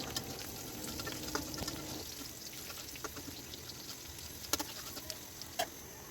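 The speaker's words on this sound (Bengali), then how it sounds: "আমি একটু ভেজে নিলাম পেঁয়াজের সঙ্গে জিরাটা" Cumin seeds fry with onion in oil, making a soft, steady crackle with scattered small pops and spits, faint and close, with no talking.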